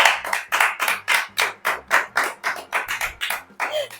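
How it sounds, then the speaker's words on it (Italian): A small audience clapping in rhythm, a steady run of about sixteen sharp, close, evenly spaced claps in unison, with no talk over them. "un bel applauso dal pubblico"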